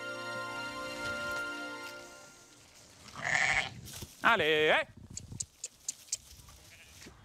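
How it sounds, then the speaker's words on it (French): Landes sheep and Pyrenean goats on a farm in the Landes bleating, two loud wavering cries close by after a man calls out to the flock, with a steady hum earlier and light knocks afterward. "Les brebis landaises et les chèvres des Pyrénées, de race locale."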